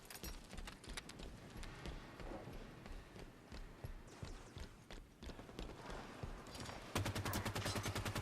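Gunfire in the Halo video game, rapid bursts of shots and impacts against a busy battle mix, ending in a fast, loud rhythmic volley of automatic fire.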